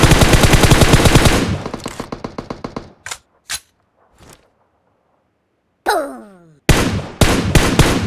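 Gunfire in a fight in the Livik map of a battle-royale shooter: a rapid automatic burst up front, then scattered single shots, a ringing ricochet-like crack and another loud burst, all close and without voices.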